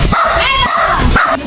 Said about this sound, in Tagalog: Naku po, ang daming aso.